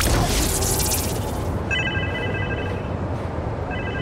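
A phone rings in the video game Spider-Man 2, a repeated electronic tone heard in two bursts after a loud rushing noise, under steady game ambience with no talk.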